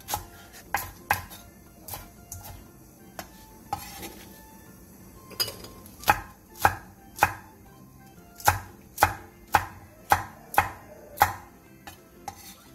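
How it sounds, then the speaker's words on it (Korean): A knife chops green onion and chili peppers on a cutting board, giving sharp, close knocks that start irregular and settle into a quick, steady rhythm, with no talking. "대파 1개 반과 청양고추 4개를 어슷썰게 해주세요."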